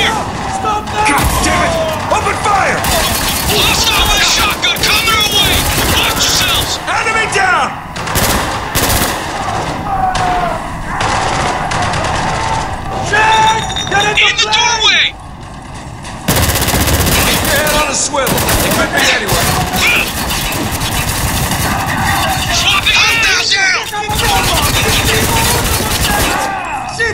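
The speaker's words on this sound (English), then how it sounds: "Open fire! Blast out with a shotgun!" Rapid machine-gun bursts and heavy shotgun blasts from the Spec Ops: The Line video game fire loud and close in near-continuous volleys with booming impacts, a brief lull midway, and voices shouting over the fighting.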